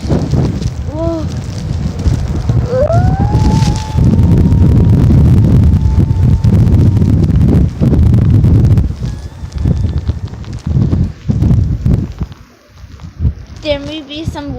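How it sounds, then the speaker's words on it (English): Strong wind buffets the microphone outdoors after a big snowstorm, with a steady roaring rumble that briefly eases near the end, while a voice calls out faintly underneath. "There may be some wind, but once in a while it calms down"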